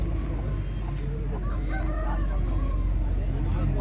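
Hens and roosters cluck and call at a busy poultry market in Kothagudem, with a constant crowd murmur and background noise underneath; the birds are moderately near but partly masked.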